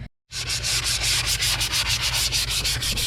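After a brief silence, 400-grit sandpaper scrubs a Campagna T-Rex wheel back and forth in quick, even strokes, loud and close, a rhythmic rasping that continues throughout.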